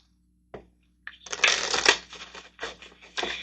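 Tarot cards being shuffled by hand, a short tap followed by several bursts of riffling and shuffling, close and clear with no talk.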